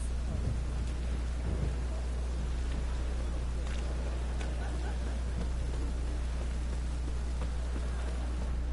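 Steady rain and rolling thunder from a thunderstorm in The Witcher 3: Wild Hunt, a continuous close wash of rainfall over a deep low rumble with occasional sharper crackles, no voices.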